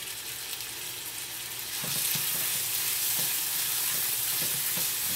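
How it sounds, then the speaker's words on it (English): Rice toasting in a hot pan gives a steady, moderately quiet sizzle that grows louder partway through, with a few soft stirring scrapes and no voices. "we're going to put this rice in here, and we're going to get this rice a good toasting"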